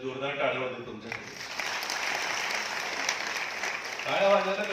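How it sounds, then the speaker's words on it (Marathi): A live audience claps loudly and steadily for several seconds at a Marathi talk, the broadband applause rising between stretches of the speaker's voice at the start and end. "जोरदार टाळ्या वाजव तुमच्याकडे."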